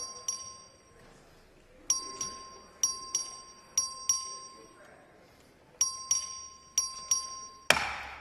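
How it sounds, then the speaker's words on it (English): A chamber voting bell in the Texas House rings in a string of sharp, bright electronic dings, several in quick groups with short pauses, heard faintly in a large room over low background murmur. "Clerk, ring the bell."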